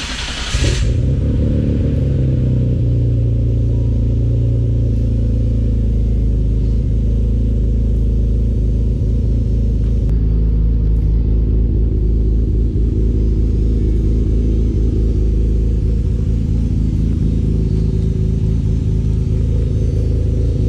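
A car engine with a new B&B exhaust starts up and settles into a loud, deep, steady idle through the exhaust, rumbling continuously with slight revs and no talking.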